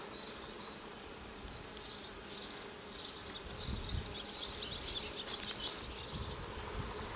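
Honey bees swarm over the frames of an open hive where they have begun capping honey, a dense, steady buzz close to the microphone that swells slightly midway, with no voices.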